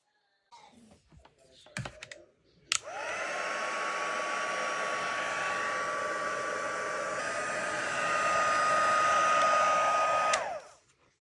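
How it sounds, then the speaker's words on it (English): After a few light clicks, a card-making heat tool switches on and blows a loud, steady whirring rush of hot air for about eight seconds before shutting off. "now I'm just getting my heat tool"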